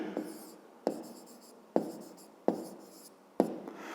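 Pen on paper writes out an equation for a grade 5 maths exercise. Five sharp taps each trail into a scratchy stroke, evenly spaced and close, with no talk.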